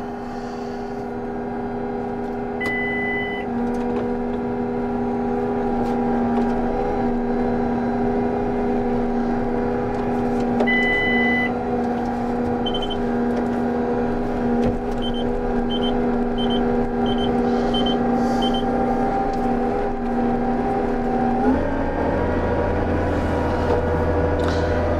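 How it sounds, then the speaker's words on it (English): A JCB Fastrac tractor pulling a subsoiler across a field, its engine droning steadily with harmonic hum and occasional short electronic beeps, then rising in pitch and loudness as the revs build near the end. "Give it some revs."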